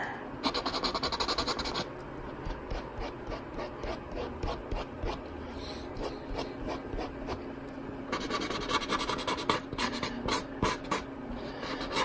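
Oil pastel scraped and rubbed across paper while blending a jungle scene, a steady close scratchy friction in repeated short strokes, with busier bursts at the start and near the end.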